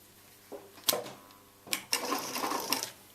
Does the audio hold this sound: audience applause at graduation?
no